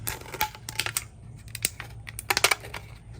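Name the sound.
cutting an aluminum can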